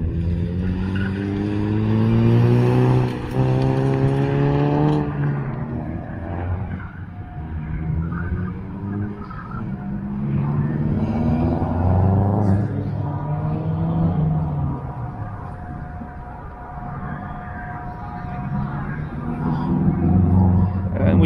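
A 2007 Subaru WRX runs an autocross course, its engine droning and revving at moderate distance in rising and falling surges, with people talking over it throughout.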